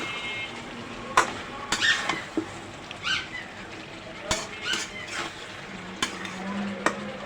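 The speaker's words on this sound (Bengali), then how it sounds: "এখন ব্রুকলিগুলি দিয়ে দেবো যদিও একটু কষাই নিব ভালো করে" Broccoli and beans being stir-fried for a rohu fish curry in a kadai, with a quiet sizzle under repeated scraping and clinking of a spatula against the metal pan, in irregular close strokes.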